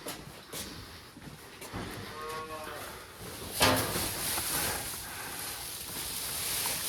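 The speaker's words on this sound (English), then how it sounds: "There's some weight, calf. Don't be groaning at me at all." A newborn calf groaning close by while being lifted, with a short low moo-like groan midway, rustling handling noise, a sharp knock and someone talking over it.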